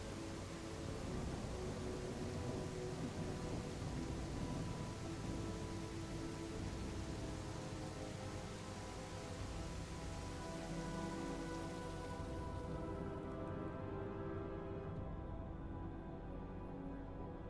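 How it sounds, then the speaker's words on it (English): Steady ambient rain on surfaces from a game map under development, a continuous even hiss of dense drops at constant level, with the high end dropping away near the end. "I feel like we don't have that rain sound in the main map either"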